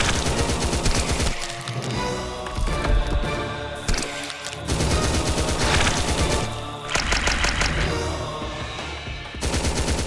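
SMG and assault rifle fire in the video game Nom Nom Apocalypse, loud rapid automatic bursts overlapping one another, with a few brief gaps before firing resumes.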